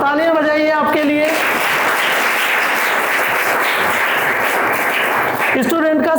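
An audience claps in a sustained burst of dense applause that lasts several seconds, with a voice speaking briefly before and after it.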